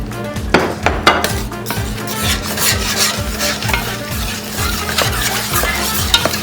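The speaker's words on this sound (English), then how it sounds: "When you hear that sizzle right there, that's how your sauce is actually going to be boiling up even quicker as well." Sauce sizzles and bubbles steadily in a hot pan, with a repeating low churning rhythm and a few sharp knocks near the start, close and fairly loud with no voices.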